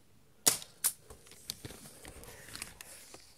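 Two sharp snapping shots ring out close together from a spring-powered Double Eagle P328 Colt 25 airsoft pistol firing 0.12 g pellets, followed by faint clicks and handling noises.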